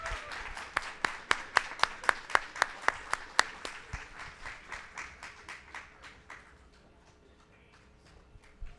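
An audience on a town square stage claps for an elderly guest, starting as sharp, fairly sparse and rhythmic claps that thin out and fade to quiet background over several seconds.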